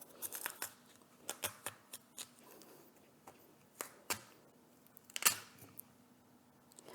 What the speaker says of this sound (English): I'm gonna cut it so that you can see the seed or the embryo inside